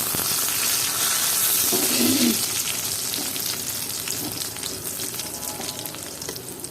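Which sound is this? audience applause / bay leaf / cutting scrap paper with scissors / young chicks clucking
bay leaf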